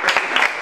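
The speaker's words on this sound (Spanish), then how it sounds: "Fuerte el aplauso, lo recibimos él de la mejor manera." Brief, loud burst of audience clapping greeting a singer at a pre-party event, a few distinct claps standing out in quick irregular rhythm.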